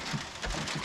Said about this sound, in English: now it's raining for 5 days in a row.